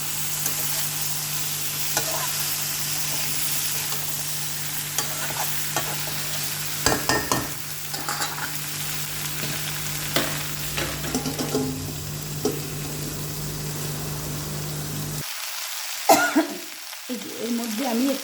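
Green chilli and garlic paste fries in a pan under a low sizzle, broken by repeated scraping stirs and clinks from a spoon, with a brief throat sound partway through.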